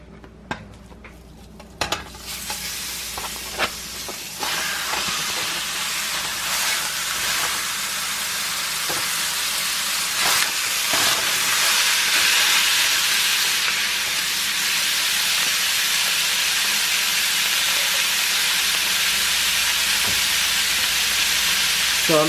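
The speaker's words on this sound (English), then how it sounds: "Let me add my ground beef and onions." Ground beef and red onions for a keto crockpot cabbage roll casserole sizzle steadily in a hot pan, a loud, continuous hiss with occasional stirring knocks near the start.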